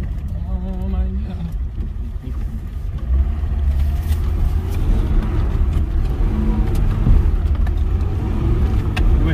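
Car drifting sideways, loud continuous engine roar and rumbling tire and drivetrain noise building up close, with people talking excitedly over it.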